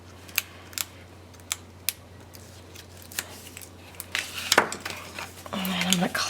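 Paper-backed craft tape on a handmade mini album page: a few small tapping clicks, then a short, rasping peel as the backing strip is pulled away close up.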